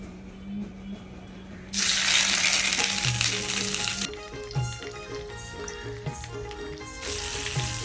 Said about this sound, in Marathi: आता आपण यामध्ये बागडे तळून घेऊया